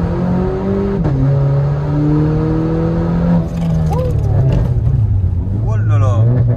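Tuned car engine in a traction-losing drive, mapped to add exhaust pops above 4000 rpm, revving and holding high with crackles late on, loud and close under ongoing talk.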